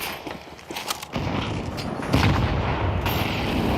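Grenades going off in a Counter-Strike match on Dust, with several booming blasts and rumbling rolls stacked close together. A quieter patter comes before the heavy detonations take over; no talking.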